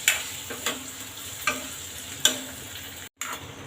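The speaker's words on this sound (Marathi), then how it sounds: "आता गाजर पण आहे आणि बटाटा. छान परतून घेऊ आपण." Carrots and potatoes sautéing in a pan for a South Indian sambar, a steady soft sizzle broken by a few sharp clinks of a spoon against the pan, close and fairly quiet with no talking.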